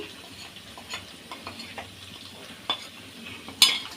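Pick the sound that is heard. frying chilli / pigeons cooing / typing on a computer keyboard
frying chilli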